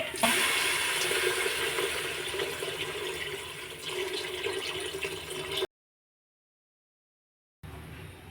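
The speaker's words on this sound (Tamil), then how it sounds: "நான் தண்ணி ஊற்றிக்கிறேன்." Water splashes and pours steadily into a cooking pot for several seconds, close and fairly loud, then cuts to silence before a short return.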